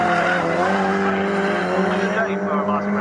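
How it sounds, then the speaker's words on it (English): A pack of racing cars at Snetterton circuit in a Swinging Sixties series race roars past with engines droning and tires squealing, loud and steady, with a commentator talking over it. "big pack of cars coming down into Brundle and Nelson at the moment"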